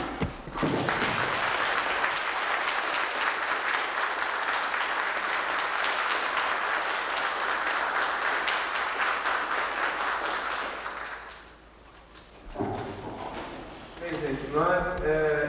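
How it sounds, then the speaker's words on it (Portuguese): Loud sustained applause from a large crowd for about eleven seconds, fading out before voices begin speaking. "uma salva de palmas a esses companheiros"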